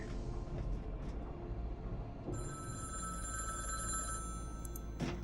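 Telephone ringing inside a living room in the video game The Dream Machine, a steady electronic ring that starts partway through and holds over a low background hum, with no voices.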